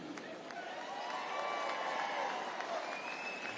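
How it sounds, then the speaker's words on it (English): Applause and crowd noise from a women's basketball game (WNBL, Melbourne Boomers v Perth Lynx) ripples through the arena at moderate level, steady and somewhat distant. "A round of applause in the background as Monique Conti comes onto the floor"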